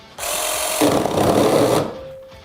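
A TAOE S4 cordless one-handed saw cuts through a branch, giving a loud, steady buzzing and rasping whir for about a second and a half before it stops.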